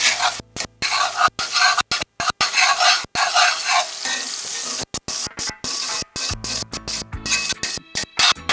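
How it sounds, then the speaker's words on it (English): A spoon stirs and scrapes browned bits off the bottom of a pot while vegetables sauté for Cajun smothered chicken, with a steady sizzle under repeated clicking scrapes and knocks close by. "so I can scrape all that goodie off the bottom, what the Cajuns call the ground"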